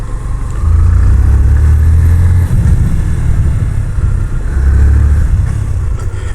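A Yamaha FZ-S V3 motorcycle rides over a rough road, its engine droning loud and close with two swells of low throttle roar amid constant rumble and road noise.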